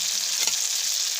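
Potato and tomato curry sizzling in a pan, with a brief scrape of a spoon stirring through it midway against the steady frying hiss.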